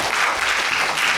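An audience at an improv show applauds loudly to vote, a thick, continuous wash of clapping that fills the room for a brief moment.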